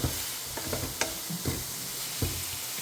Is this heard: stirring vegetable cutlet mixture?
yes